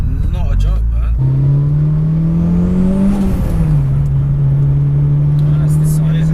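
720bhp Mitsubishi Evo VII engine pulling hard with a loud, steady droning tone that rises and then settles, heard from inside the car under talk.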